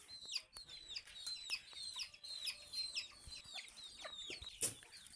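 Repeated soft clucks and calls from a hen, close by, with higher peeping voices of her chicks layered throughout.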